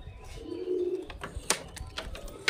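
High-flying Kalshira, Saharanpuri and Madrasi pigeons coo in a loft, a low rolling coo swelling near the start, then scattered soft calls and rustles, fairly close and moderately loud with no talking.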